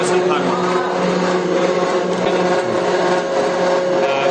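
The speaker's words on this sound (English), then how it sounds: "This is a mixer blender machine for raw material powder mixing at the granulation" An industrial mixer blender mixing raw fertilizer powder at a granulation plant runs with a loud, steady mechanical whirr and drone, continuous and close.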